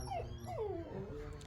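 A dog whimpers close by in a short series of high, falling whines over about a second and a half.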